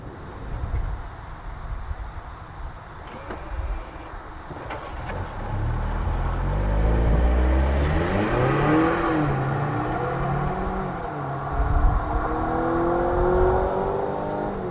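A 2025 Mazda CX-70 PHEV plug-in hybrid SUV, gasoline and electric motors working together, accelerates with a rising engine drone that swells and holds as it pulls away, under steady road and wind noise, with no talk.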